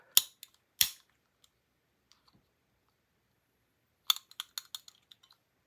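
Two sharp mechanical clacks early on, a pause, then a quick run of small clicks and snaps, like a hole punch working through paper, close by.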